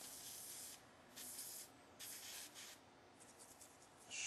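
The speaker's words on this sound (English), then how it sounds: "We'll give it an overall spray" G96 gun cleaner hisses from an aerosol can onto a firearm in several short, separate bursts, faint and close, with no talking.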